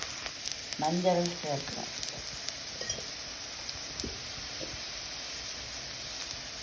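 Green chillies and nigella seeds sizzle steadily in hot frying oil for a potato stir-fry, a soft continuous hiss with a few faint clinks, while someone speaks briefly near the start.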